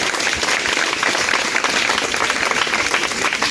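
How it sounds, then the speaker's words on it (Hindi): Students clap loudly for Julie Didi at a Teachers' Day gathering, a dense, continuous wash of applause filling the whole stretch at high volume with no speech over it. "एक बार अपने जूली दीदी के लिए जोरदार ताली बजाएंगे"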